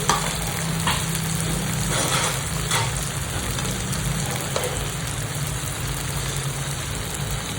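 Dalia sautéed in a pan for a khichdi, a dense, rain-like frying hiss that runs throughout, with a few faint stirring scrapes early on.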